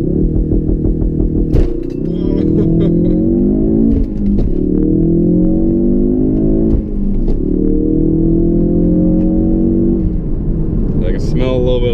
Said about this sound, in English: Smell a little bit of clutch, but that's gonna happen when you dump the clutch like that.